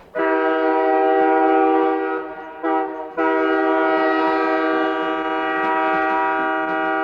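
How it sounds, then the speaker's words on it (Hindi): A deep, sustained locomotive horn blares loudly for several seconds at night, dips briefly, then sounds again and holds steady. "इंजन के भोंपू की आवाज से मेरी नींद खुली"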